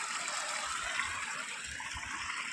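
Water from a small waterfall stream flows steadily at a picnic spot, a soft continuous rushing and trickling heard alone at moderate distance with no voices.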